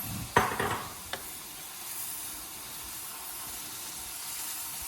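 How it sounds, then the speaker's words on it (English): Milk is poured into a golden roux for green bean casserole and stirred, giving a brief splash and clatter at first, then a soft, steady hiss of the pan. "So I'm gonna add my milk and give that a good mix."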